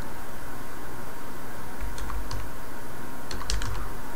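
Typing on a computer keyboard, with a few scattered key clicks in two short bursts over steady room hiss, including a press of the enter key.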